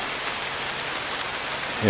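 Steady rain falls around a sheltered spot in the Koh Ker area near Siem Reap, Cambodia, a close, even hiss that swells with a brief louder rush at the very end.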